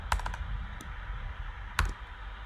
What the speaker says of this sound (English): let's say if I type in 2